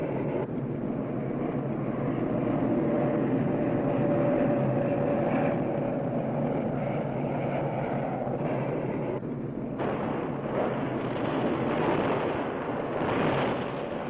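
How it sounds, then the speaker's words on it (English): B-52 bombers over a war zone in Vietnam, 1967, make a loud, continuous low roar and rumble that shifts partway through, with no voices, suggesting heavy aircraft and distant explosive bombardment. "And then there are the B-52 bombers striking from nearby Thailand."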